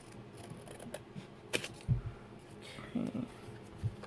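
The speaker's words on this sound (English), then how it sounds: "But I'm going to try to cheat and follow with the scissors around the" Soft snips of scissors cutting paper for a handmade planner, several short irregular clicks close by, with a voice murmuring in between.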